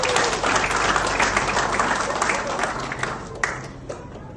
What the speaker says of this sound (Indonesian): Tepuk tangan untuk Allah